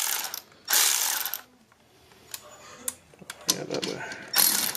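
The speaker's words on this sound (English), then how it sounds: "once you screw this bolt down, it screws down" A ratchet clicks as the bolt of a valve spring compressor is tightened down on a Honda H23 cylinder head, coming in several loud close bursts of rapid clicking separated by quieter pauses.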